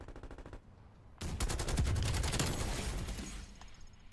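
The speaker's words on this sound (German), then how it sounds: "Ey, dieses blöde Geschütz." Turret gunfire in Call of Duty Black Ops Cold War: a short rapid burst, a brief pause, then a longer loud sustained automatic barrage that gradually tapers off.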